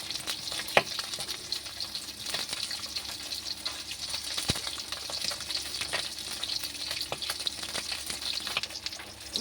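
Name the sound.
fish frying in oil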